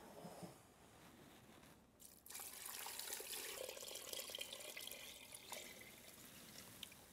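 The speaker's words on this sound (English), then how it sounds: "Next in goes the water." Water poured from a tap or jug into a stockpot holding assorted pork bones, a steady close splashing stream that swells after a brief pause and runs on alone.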